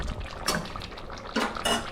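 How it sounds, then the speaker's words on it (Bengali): Chicken pieces for a Bengali chicken rezala being gently turned in a pot, giving a few soft clinks and scrapes of a utensil against metal with light wet shuffling between them, close and quiet, with no talk. "চিকেনের পিসগুলোকে একটু উল্টে পাল্টে দিয়ে একটুখানি নাড়াচাড়া, হালকা হাতে নাড়াচাড়া করতে হবে"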